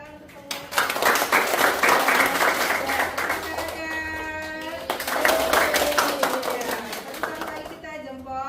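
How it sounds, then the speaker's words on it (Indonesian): A university class claps together at the end of a lesson, brisk clapping from a room of students mixed with voices and talk, swelling in two waves over about eight seconds. "Tepuk tangan untuk semua."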